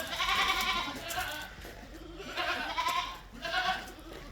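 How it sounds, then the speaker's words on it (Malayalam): A crossbred dairy goat, heavy-bodied and kept with its month-old kid at a livestock sale, gives three loud, wavering bleats in close succession, each a nasal, quavering cry over faint background noise. "നല്ലൊരു ക്രോസ് ബീഡ് പാലാട്."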